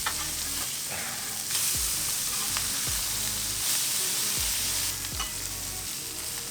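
Salmon sizzling on a hot Blackstone griddle, a steady loud frying hiss with a few scraping spatula strokes and occasional clanks, with no voices.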